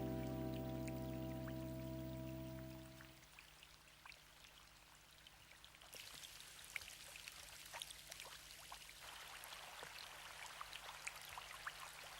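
Light rain drizzles onto a lake, a soft steady patter of fine droplets over the water; a low humming tone fades out in the first few seconds, then the rain continues alone with scattered brighter drips.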